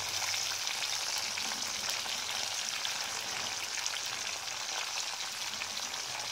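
Stuffed green chilies frying in a little oil over low heat give off a continuous, even sizzle with fine crackling, close and steady throughout with no voices.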